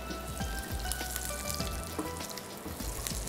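Dried red chillies and curry leaves frying in coconut oil with mustard seeds and fenugreek, a dense continuous sizzle with occasional pops and crackles, close up and steady.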